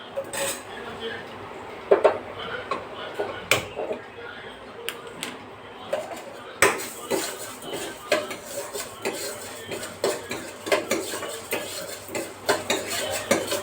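A spoon scrapes and clinks against a cooking pan while stirring masala for a Sunday special dish, irregular metallic taps and scrapes running throughout, louder and denser in the second half.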